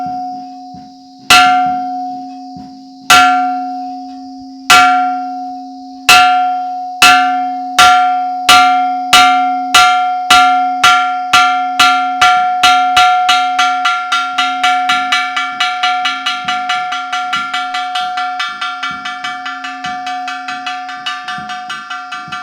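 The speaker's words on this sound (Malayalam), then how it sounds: "ഇതാണ് ഇവിടുത്തെ പള്ളിമണി പ്രിയപ്പെട്ടവരെ കണ്ടു നോക്കിക്കേ" A church bell tolls alone, slow strong strokes at first that quicken into a rapid, steady ringing with long ringing overtones, loud and close with no voices.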